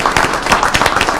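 Applause from the audience at a city council meeting, a brief burst of dense clapping that fills the room for about a second, with no talk over it.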